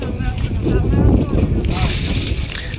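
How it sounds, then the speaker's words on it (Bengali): A trawler boat on a Sundarbans river at Pankhali ghat, its engine and wind rumbling steadily up close with rushing water, loud throughout. "এই হলো আমাদের ট্রলার। এই ট্রলার নিয়ে আজকে যতদূর চোখ যায় চলে যাব"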